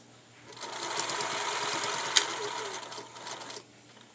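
An electric sewing machine stitching across pleated fabric runs in one continuous burst of fast, even buzzing for about three seconds, close and fairly loud, with a short start and stop at each end.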